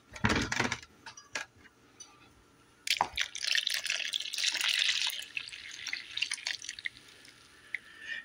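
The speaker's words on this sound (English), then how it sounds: "let's go ahead and mix in our yeast, warm water, and our buttermilk." Warm water and buttermilk poured into biscuit dough in a mixing bowl, with irregular splashing and dripping in bursts, a longer pour in the middle and a few sharp clinks, close and fairly quiet with no talking.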